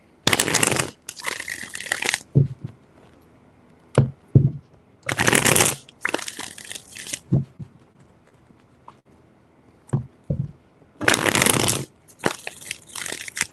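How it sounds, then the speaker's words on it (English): Tarot cards are shuffled in three separate bursts of crisp riffling, each followed by soft taps and thuds as the deck is squared, close and clear. "3 shuffles"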